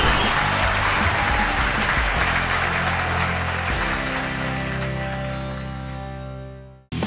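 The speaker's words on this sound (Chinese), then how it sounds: "还有刚刚呢猜的非常准的 David 的这一组，可以成功的挤入到了我们等一下的智慧王喽，掌声给他们鼓励。" A studio audience on a Chinese-language TV quiz show applauds in a dense, continuous burst of clapping that slowly thins and fades out near the end, with no talking over it.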